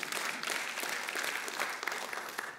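A church congregation at an Indonesian Sunday service applauds, a thick, continuous wash of clapping that holds steady and fairly close for the whole stretch.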